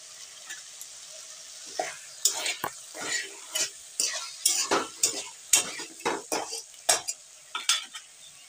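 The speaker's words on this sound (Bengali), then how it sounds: "দেখো হালকা করে কষে নেবো। একটু সর্ষের তেল ছিল, দিয়ে দিলাম।" Masala for egg curry sautéing in mustard oil in a pan, a close, steady sizzle broken by a run of sharp, rhythmic scraping strokes as a spoon stirs and presses it against the pan.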